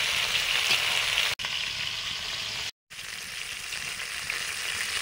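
Mustard oil tempering with panch phoron and chopped onion for a mixed-vegetable ghonto: a loud, continuous, close sizzle with a brief stir and a short dropout, with no talking.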